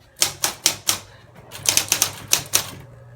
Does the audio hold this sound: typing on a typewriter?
yes